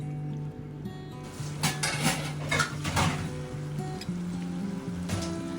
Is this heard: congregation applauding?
no